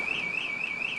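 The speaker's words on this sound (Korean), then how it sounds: "이런 경보음이 계속 작동하기 때문에요" A child drop-off check alarm in a school vehicle sounds as a loud, steady, high-pitched electronic tone that warbles in regular pulses about four times a second and never stops.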